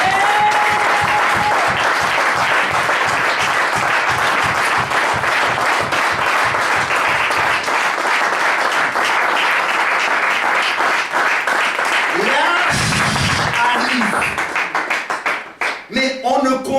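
A church congregation applauds during a French-language sermon, with loud, dense, sustained clapping that thins out, followed by a few voices near the end.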